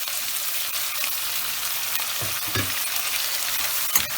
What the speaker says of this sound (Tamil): அதுவும் ஒரு 2 மினிட்ஸ் நல்லா வதங்கணும்.